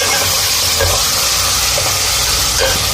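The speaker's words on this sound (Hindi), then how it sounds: "अब हम इसमें कीमा डालेंगे।" Minced keema meat tipped into a hot pan already holding oil, cinnamon, garlic and ginger, giving a loud, steady frying sizzle and hiss throughout with a few faint stirring bumps.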